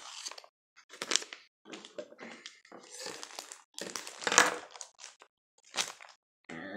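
Plastic packaging of dollar-store monster miniatures crinkles, crackles and rustles up close in irregular bursts with brief gaps, moderately loud, no talking.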